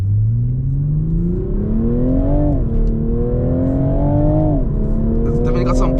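Toyota A91 GR Supra engine accelerating hard from inside the cabin, loud and close, with rising revs through a couple of gear shifts and steady road roar underneath.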